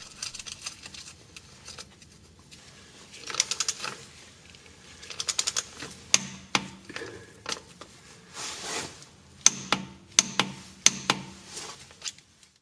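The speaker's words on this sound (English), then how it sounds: "I'll reinstall the drain plug and torque it to spec" Ratchet clicks in short bursts as a drain plug is reinstalled and torqued on a Jeep Liberty transfer case, the sharp mechanical ticks coming in quick clusters with quiet gaps between, close and fairly loud.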